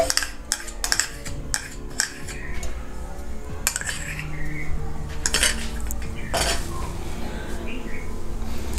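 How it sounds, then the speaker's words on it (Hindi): Desi ghee is brushed around a pan over a flame, making scraping and brushing strokes with metallic clinks and taps against the pan, close and fairly loud. "इसको अच्छे से ब्रश के साथ चारों तरफ लगा देंगे पैन में।"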